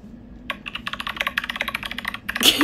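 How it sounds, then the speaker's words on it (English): Fingers type quickly on a Bluetooth computer keyboard, producing a dense run of close, crisp key clicks and taps that lasts a couple of seconds, with no one speaking over it. "It's a Bluetooth keyboard"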